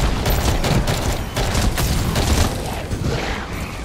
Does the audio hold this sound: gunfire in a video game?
yes